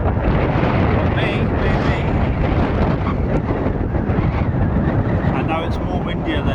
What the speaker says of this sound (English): apparently it's gusting 30 mile per hour winds